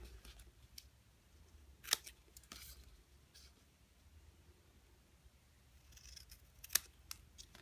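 Scissors snip cardstock for a paper lantern, two sharp distinct cuts several seconds apart against faint rustling, quiet and close.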